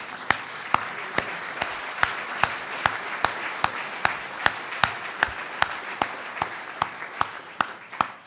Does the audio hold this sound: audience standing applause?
yes